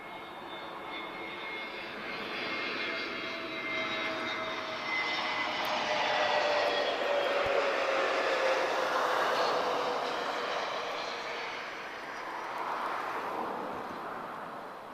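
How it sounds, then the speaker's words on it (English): An Airbus A321neo jet arriving from Paris Orly at Lisbon Airport, a steady broad engine roar with a whining tone that swells and holds loud through the middle, then eases slightly toward the end, with no voices. "So that's A321neo."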